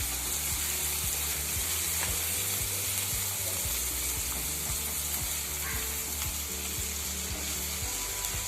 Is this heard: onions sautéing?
yes